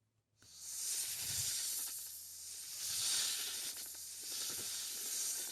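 A snake hisses in a forest with long, breathy hisses, rising and fading in about three drawn-out waves, steady and close, with no other sounds or voices.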